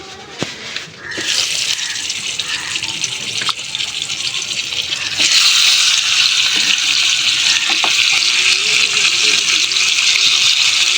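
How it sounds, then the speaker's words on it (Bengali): Fish heads coated in salt and turmeric frying one by one in a saucepan, giving a steady broadband hiss that swells louder partway through and stays up close, with a few clicks and no talking. "মাছের মাথাগুলো আমি এক এক করে ভেজে নেব"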